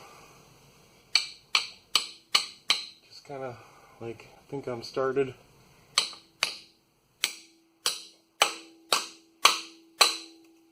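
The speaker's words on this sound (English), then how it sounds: "I'll get my 3-pound hammer." Sharp metallic strikes of a three-pound hammer, working on a 1997 Chevy 1500 NP243 transfer case rear output seal, ring out steadily, pausing briefly while someone speaks, then resuming with a dozen more evenly spaced blows.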